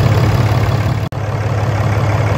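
A Ram 2500 Cummins diesel truck engine idles steadily with a low, even rumble, running alone without talk, with a brief dropout partway through.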